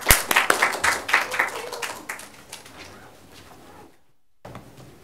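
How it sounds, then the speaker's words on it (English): An audience at a neuroscience and mental health lecture claps in welcome, a loud burst of many hands that thins and fades into scattered claps, then a short silence before a few final claps. "let's clap our hands to show a warm welcome to Dr. Keely."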